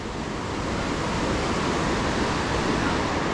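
Steady, dense roar of rushing water at Cucumber Rapids on the Ohiopyle river, running at about 7 to 8 feet, loud and unbroken throughout, like fast rapids close by.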